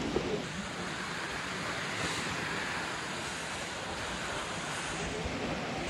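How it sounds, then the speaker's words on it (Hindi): Jibhi waterfall, a steady dense roar of rushing water filling the whole stretch, loud and unbroken, with some wind buffeting and no talk. "देख लो ऊपर वाटरफॉल।"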